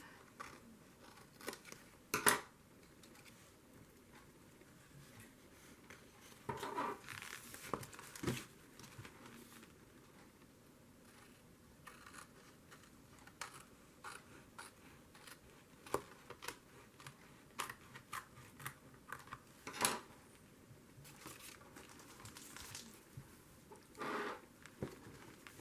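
Scissors snip paper trimmings for an Asian-themed glue book, a scattered series of short, faint crisp cuts and rustles spread across a quiet stretch with no talking.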